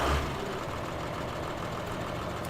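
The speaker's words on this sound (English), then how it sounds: "We'll drive there with this tractor." A tractor engine in Farming Simulator 2015 idles with a low, knocking rumble, steady and fairly quiet after a brief louder thump at the start.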